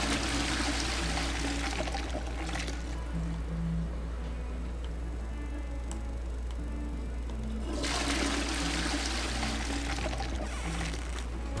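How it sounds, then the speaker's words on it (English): In the video game Hogwarts Legacy, a toilet flushes twice: a loud rushing gush of water that drains and refills, then a second surge, steady and close with no voices. "Flush this toilet. Flush that toilet."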